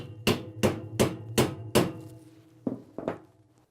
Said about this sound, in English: use the hammer and tap the basket down the pole